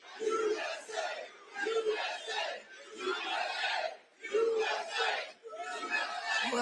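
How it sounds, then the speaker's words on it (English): A live audience fills a venue with loud crowd chatter and cheering, rising in repeated swells over several seconds with brief dips between them. "Well, this is a nice crowd."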